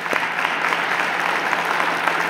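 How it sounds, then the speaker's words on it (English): Steady applause fills a meeting room at an annual gathering, an even wash of hand claps from a modest crowd with no pauses. "Give him a round of applause."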